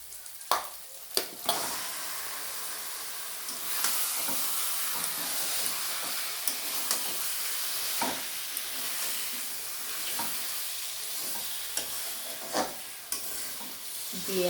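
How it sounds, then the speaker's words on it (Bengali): Marinated mutton hits hot spiced oil in a pan for a mutton and potato curry, setting off a loud, steady sizzle and hiss, broken by scraping and clanking as a spatula stirs the meat. "এবার আমি মটনগুলো দিয়ে দেবো।"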